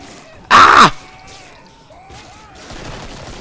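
A single loud shotgun blast in Killing Floor rings out sharply, then fades into faint background game noise.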